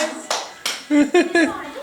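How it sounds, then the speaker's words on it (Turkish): A few sharp hand claps ring out at home during a children's song, brief and close, with a voice and an adult's singing mixed in between them. "Hey, alkış."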